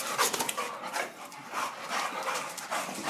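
A European Boxer dog pants and whimpers while playing, rhythmic breathy huffs and small whines close by, with no talk over it.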